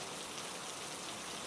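Steady rain falls without a break, an even wash of drops hissing on surfaces at low volume, with no voices.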